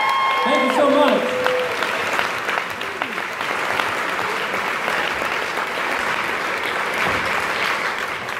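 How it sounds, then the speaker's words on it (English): An audience at the Fargo Theater in Fargo, North Dakota claps loudly and steadily for several seconds after a concert, with a short musical tone at the start and voices mixed into the applause. "Can you please give them a round of applause?"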